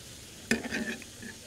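Seasoned chicken wings with a little red pepper are stirred on a griddle, a sudden sharp scrape followed by a few short clattering strokes over a faint steady sizzle.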